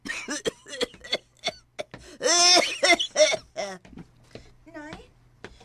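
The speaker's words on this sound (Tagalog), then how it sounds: "may grabe naman hino ng imong ubo" A sick woman coughs hard in a Bisaya drama, a run of harsh, uneven coughs broken by strained, groaning breaths, close and fairly loud.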